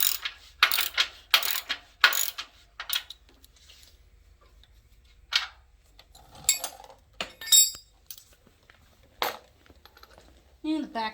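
A ratchet tightens front suspension control arm bolts in short bursts of rapid clicking, close and fairly crisp, separated by pauses and a few metallic clinks.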